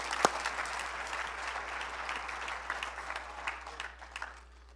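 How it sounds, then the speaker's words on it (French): A church congregation breaks into warm applause, a full patter of many hands close and steady before thinning and fading at the end, with a faint voice beneath. "Est-ce qu'on peut applaudir la notion de confidentialité?"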